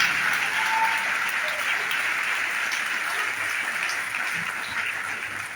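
Audience applause at a radio concert, dense, continuous clapping from a crowd that holds steady throughout and fades only slightly at the end.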